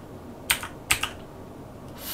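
A few keys are pressed on a Sinclair ZX Spectrum keyboard while setting up game controls, producing two or three sharp, close clicks over faint room hiss.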